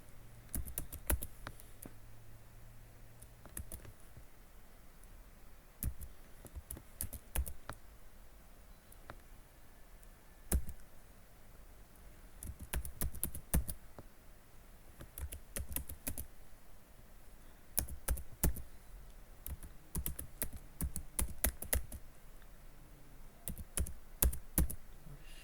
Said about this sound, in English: So for that I am typing the command